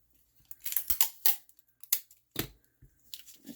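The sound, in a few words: scissors cutting a piece of tape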